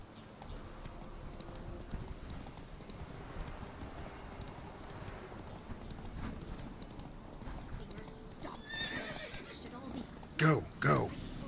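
Horse hooves clip-clop during a ride in the video game Witcher 3: Wild Hunt, over a steady ambient background, with a short burst of louder hoof hits and a whinny near the end; a voice speaks briefly.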